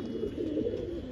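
A pigeon coos close by with a soft, low, throaty warble that rolls on continuously through a brief moment.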